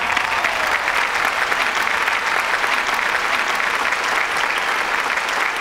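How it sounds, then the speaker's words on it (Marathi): Loud, sustained applause from a studio audience at a Marathi comedy show, a dense wash of clapping that holds steady for several seconds with no break. "याच्या दुप्पट टाळ्या आपण विजू मामासाठी पण वाजवूया."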